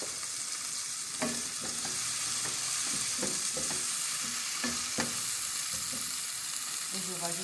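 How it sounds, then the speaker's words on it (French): Food sizzles steadily in a frying pan as salted ingredients are sautéed, with a constant bright crackle broken by repeated scraping and stirring knocks at an irregular pace. No one speaks. "Donc je vais faire sauter à la poêle."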